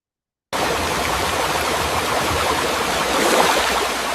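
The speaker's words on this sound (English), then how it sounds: "Camilla has been dispatched to a wet, loud water treatment facility to fix pump 992, which is vibrating violently." Loud, steady rushing water fills a wet, noisy water treatment facility, beginning abruptly after a moment of silence and staying as a dense continuous roar.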